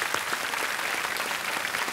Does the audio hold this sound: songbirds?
no